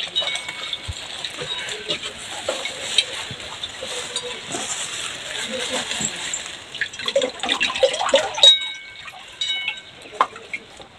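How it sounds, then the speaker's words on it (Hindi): Water poured over mustard stalks and potatoes to wash them in a home kitchen, a steady splashing hiss with occasional clinks of a vessel, moderately loud and continuous. "तो चलिए इसमें हम पानी देते हैं"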